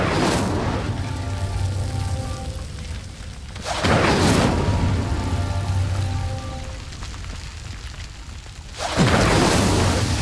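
Incendio fire spell cast in the video game Hogwarts Legacy: three loud whooshing bursts of flame, one at the start, one near four seconds and one near nine, each flaring over a steady crackling bed of fire with no talk.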